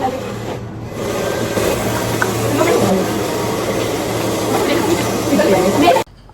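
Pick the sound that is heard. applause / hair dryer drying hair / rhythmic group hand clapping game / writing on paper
hair dryer drying hair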